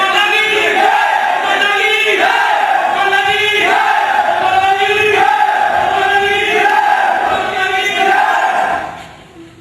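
A large crowd of devotees shouts and chants together in rhythmic waves, loud and sustained throughout before dropping away at the very end.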